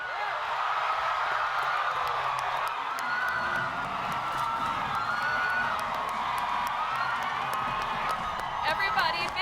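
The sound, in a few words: convention crowd cheering and applauding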